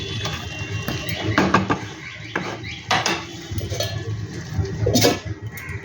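Chicken being stirred with a spoon in a metal kadai, spiced with ground masala: repeated scraping and clinking strokes of metal on metal, close and irregular, over a low background hum.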